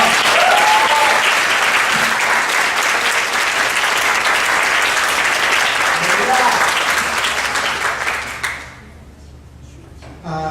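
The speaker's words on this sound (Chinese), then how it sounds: "我们再给上帝一个掌声，也给赵群一个掌声" A concert audience at a church music festival bursts into loud, sustained applause that fills most of the stretch, then thins and fades away near the end, with some voices mixed in.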